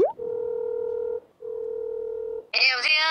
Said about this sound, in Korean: 저기 전화해 보시는 거예요?